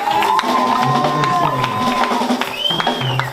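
A church congregation at Adonai Church in Dallas cheering and acclaiming: a loud, sustained crowd roar with voices and tonal sounds rising over it, close and continuous.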